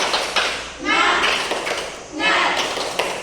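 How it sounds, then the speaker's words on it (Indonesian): A classroom of children doing the rhythmic tepuk semangat clapping chant, with two swelling bursts of group claps mixed with chanting voices. "Ibu kasih contoh tepuk semangat"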